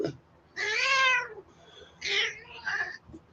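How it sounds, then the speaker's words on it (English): A cat meows three times up close, one long drawn-out call followed by two shorter ones, loud and clear against a quiet room. "My cat does not even bother to look or see where the cat noise is coming from"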